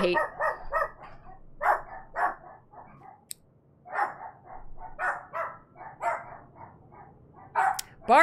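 Small puppies bark and yip in quick repeated bursts, sharp and close, with short pauses between volleys and one brief click.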